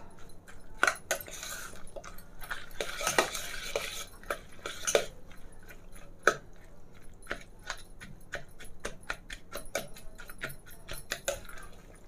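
Fried eggplant being mashed in a pan for baingan bharta, with irregular close clinks and scrapes of a utensil against the metal pan and no talking.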